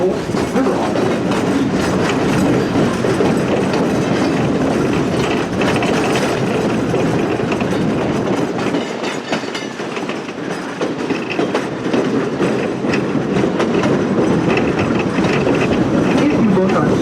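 A tourist train on the Missionary Ridge Local line rolls over a bridge across South Chickamauga Creek, loud steady rumble and clickety-clack of wheels on rails continuing throughout, with a narrator talking over it.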